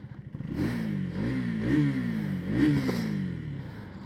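A 2025 KTM Duke 250 motorcycle engine cranks and fires up nearby, then revs in a few rising and falling blips before settling, loud and alone with no talking.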